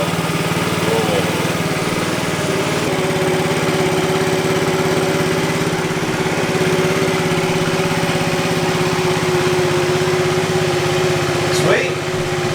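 Small 50cc moped engine idling steadily with the choke on, a continuous buzzy drone up close that holds level throughout, with a brief squeak near the end.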